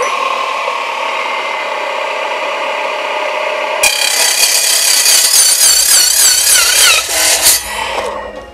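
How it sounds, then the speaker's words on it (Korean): A TICHOP DC9913 metal cutoff saw set to 2000 RPM slicing through square steel pipe: a steady high motor whine, then a loud harsh grinding screech as the blade bites, fading as the motor winds down near the end. "가장 많이 쓰실 법한 이 각 파이프를 제가 계속해서 한번 절단을 해볼게요"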